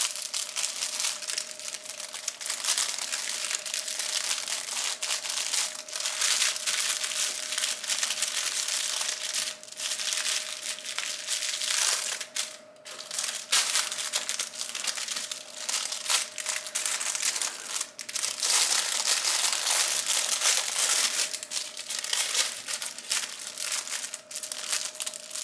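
Crinkle material inside a sewn fabric baby crinkle book, handled close up in continuous crackly crumpling with brief pauses, loud and dry, with no voices.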